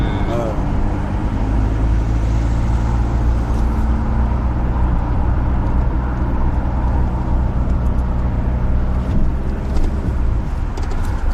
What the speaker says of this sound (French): tu lèves un peu plus l'embrayage et tu accélères un petit peu